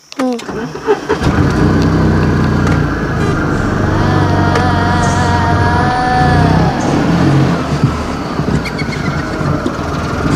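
A Tata Nano's small car engine starts and runs, its revving hum rising and holding loud and close while voices speak over it.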